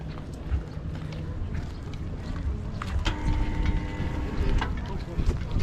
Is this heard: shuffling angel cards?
no